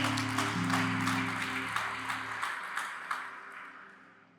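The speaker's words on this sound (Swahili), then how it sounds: "Mpigie makofi Mungu wetu mzuri." A church congregation at a Pentecostal service claps together in a broad burst of applause over low sustained music, the clapping thinning and fading over a few seconds.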